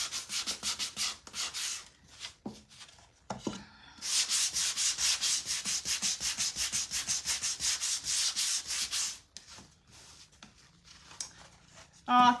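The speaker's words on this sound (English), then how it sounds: "I'm just going to sand it just a little bit to kind of blend it in a little bit more," A wooden Christmas/winter craft kit piece is lightly sanded by hand, producing close, raspy rubbing strokes in short bursts, then a long steady run of repeated back-and-forth scrubbing before it stops; faint voice traces appear around the edges.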